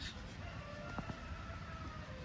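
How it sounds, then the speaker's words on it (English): Rooster crowing out in the woods by a river, faint and distant beneath a steady outdoor wash of noise, a brief call rising in the middle. "Woods roosters."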